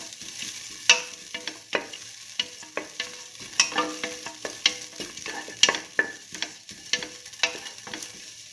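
Split mung bean and tomato stew being sautéed in a pan, a soft steady sizzle broken by repeated sharp scraping and clinking strokes of a spoon stirring against the pan, close and fairly quiet, no talking.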